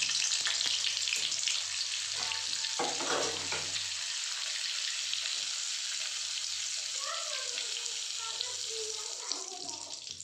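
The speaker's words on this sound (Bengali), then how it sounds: "তেলটা মোটামুটি গরম হয়ে গেছে। এখানে আমি একটু বাটার দিয়ে দিলাম।" Butter sizzles as it melts into hot oil in a wok, a steady hissing fry throughout with a few faint clinks and scrapes.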